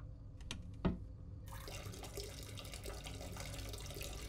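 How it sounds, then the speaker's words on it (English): A video game character pees into a toilet: a faint splash starts, then a continuous trickle of water carries on to the end, with no talk over it. "All right, let's pee."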